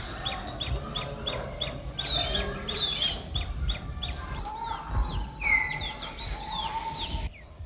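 Birds sing in lush greenery in Assam, a rapid run of repeated chirps followed by longer whistled calls, fairly close and clear over a soft background, with no talking.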